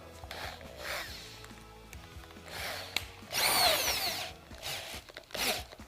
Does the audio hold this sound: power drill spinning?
yes